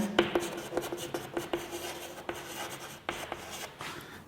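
A pen scratches on paper during a maths lesson, writing in short, soft strokes with small taps and pauses, close and quiet, with no talk.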